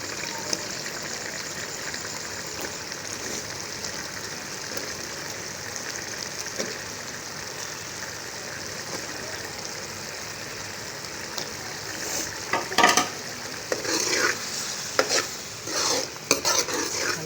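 Mutton keema with potatoes frying in a pot, a continuous soft sizzle with spoon stirring and scraping that grows busier and louder toward the end, no talking.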